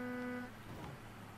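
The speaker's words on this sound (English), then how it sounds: "I can honk too, buddy." A car horn in the video game Mafia 3 gives one short, fairly quiet honk at the start, then cuts off into a low engine drone.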